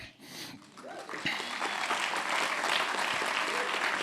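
An audience at an arts awards ceremony breaks into sustained applause after a brief spoken moment, clapping steady and moderately loud.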